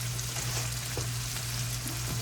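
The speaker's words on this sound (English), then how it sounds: "I'm gonna put about 1/2 of this cabbage in at a time, and let it cook into those onions and peppers" Shredded cabbage frying in a pan with onions and peppers, a steady, even sizzle that holds through the whole stretch without breaks, moderately loud and close, with a low constant hum beneath.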